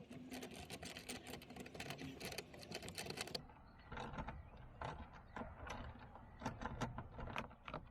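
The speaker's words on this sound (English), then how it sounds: "let's go ahead and grab our 10mm socket and socket wrench, and let's go and remove the two outer bracket screws" A 10mm socket on a ratchet wrench backs out door speaker bracket screws on a Nissan Frontier, giving rapid, close clicking ratchet bursts, a dense run at first and then shorter separate clicks.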